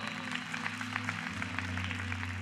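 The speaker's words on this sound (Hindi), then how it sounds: "ताली यहां पर ठोकना चाहिए।" Congregation clapping at a prayer festival service, a steady patter of many hands sustained throughout over a low sustained musical tone.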